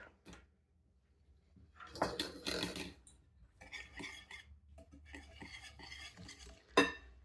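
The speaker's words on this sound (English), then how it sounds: "It's a 1/2 cup of white sugar and a 1/2 cup of brown sugar. And I'm actually going to switch to a whisk." A whisk works white and brown sugar into brown butter for toffee chocolate chip cookies, with bursts of scraping and clinking against the bowl separated by quiet gaps and one sharp knock near the end.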